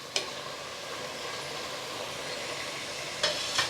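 Half a kilo of cleaned mutton hits hot masala paste in a pan for biryani, giving a steady close frying sizzle and hiss with a couple of brief clatters of stirring.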